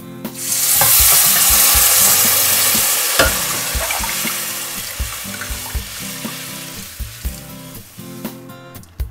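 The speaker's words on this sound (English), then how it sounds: "Just saute it for a minute and then add the tamarind juice or tamarind water what we have done." Tamarind juice poured into a pan of sautéing ingredients for spicy tamarind rice (puliyodharai), a loud burst of sizzling and frying that gradually settles, with occasional clinks of a spoon stirring.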